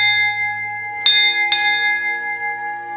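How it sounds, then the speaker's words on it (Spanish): A bell at the Padre Pio sanctuary is struck twice in quick succession, each strike bright and loud, with a long sustained ringing tone that hangs in the air throughout. "Vamos a sonar esa campana."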